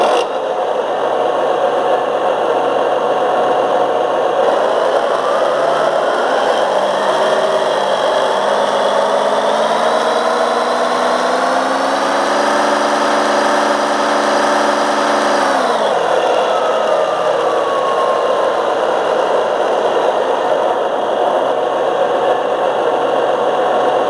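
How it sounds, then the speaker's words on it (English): A large John Deere 8420 tractor's engine runs steadily and loudly nearby, revving up in pitch for a few seconds before dropping back to a steady idle, with no talk. "This one is large tractor."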